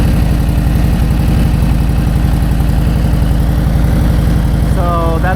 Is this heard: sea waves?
no